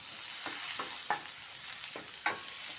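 Chopped garlic sizzles in hot oil, with a soft steady hiss and a few sharper crackles and spatters.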